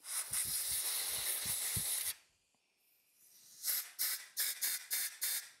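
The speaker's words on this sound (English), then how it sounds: "Now, we'll take some compressed air and blow the parts off." Compressed air blowing off parts from a 1978 Johnson 6HP outboard carburetor, a loud steady hiss for two seconds, a pause, then a series of short close bursts.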